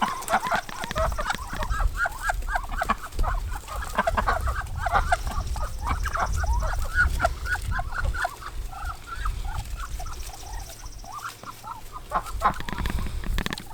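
A flock of farm chickens gathers at a garden gate, clucking and calling continuously in a busy chatter, close and fairly loud, with a low rumble of outdoor background underneath.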